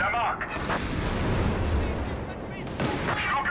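Heavy mortar bombardment in Company of Heroes 3, with repeated booming artillery blasts and crackling gunfire in a dense battle mix, under a commentator talking.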